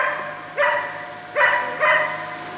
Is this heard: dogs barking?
yes